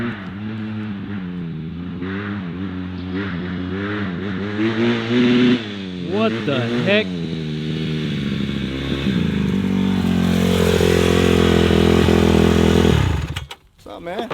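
A Honda CRF150RB dirt bike engine revs up and down repeatedly, loud and close, then holds at a high sustained rev before cutting off abruptly. A voice speaks briefly over it.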